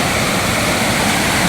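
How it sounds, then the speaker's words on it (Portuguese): Steady roaring rush of falling water from the Cachoeira do Rio Cachaça waterfall, a dense continuous wash of noise with no pauses. "Olha as quedas aí, ó."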